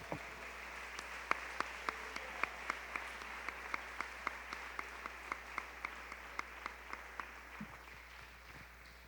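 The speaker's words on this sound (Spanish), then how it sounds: "Despertémonos ahí con una ofrenda de palmas" A church congregation claps in a steady, rhythmic beat as an offering of praise, sharp regular claps fairly faint over a low background hum, with no talk.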